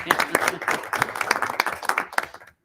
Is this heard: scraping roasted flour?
no